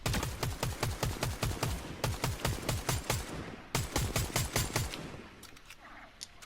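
Rapid bursts of gunfire from Fortnite Battle Royale, a steady rhythmic stream of close, sharp shots for about five seconds, a brief pause, then more bursts that thin out toward the end.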